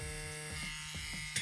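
A lightweight CNC Q6 machine set to 12 volts buzzes steadily and close while working against silicone, a continuous electric whir with a slight pulsing wobble.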